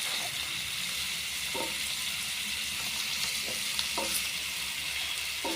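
Rohu fish pieces fry steadily in a pan for a Bengali kuti bhaji, a constant sizzle with a few soft scrapes as they are gently stirred, close and without talk.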